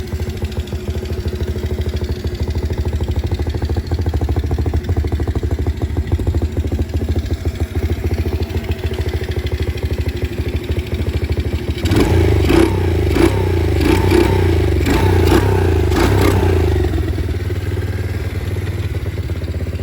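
A used four-wheeler ATV engine, newly fitted with an NGK spark plug, running loud and close with a steady rough idle throb, then rising into a few throttle blips and revs before settling back.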